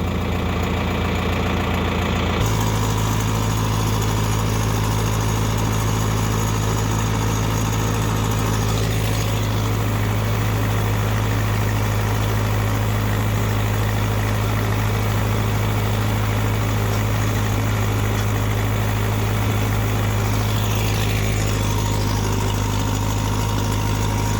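A John Deere 3010 tractor pulling a hay tedder chugs along with a steady low diesel drone, loud and close, the engine note shifting slightly after the first few seconds and then holding constant alongside faint mechanical rattling.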